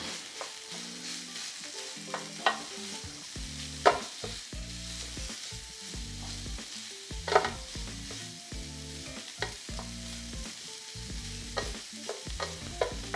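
Stir fry of veggies and sausage seasoned with soy sauce and black pepper sizzles steadily on a Ninja Foodi Pro XL grill and griddle, with repeated close spatula clacks and scrapes over a soft, constant frying hiss and no voices.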